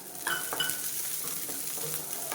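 Garlic and onions frying with tamarind in a pan make a quiet, constant sizzle, with a couple of brief utensil scrapes and clinks near the start.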